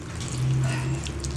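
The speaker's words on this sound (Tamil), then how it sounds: "தண்ணி கொஞ்சம் ஊற்றுங்க." Water pours steadily into a bowl of flour for parotta dough, a soft close trickling splash lasting about a second and a half with no talk.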